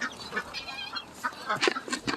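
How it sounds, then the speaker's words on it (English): Crowd of farm ducks clustered around someone's feet at feeding time, giving overlapping honking quacks at close range, fairly loud and continuous with several sharper calls near the end. "my feet are completely covered up with ducks right now"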